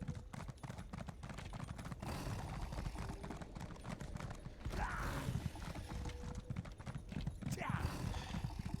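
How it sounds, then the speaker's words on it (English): Horse hooves clip-clop at a steady riding rhythm in a video game, faint and continuous under a dense layer of game sound and ambient noise. "I can ride my horse."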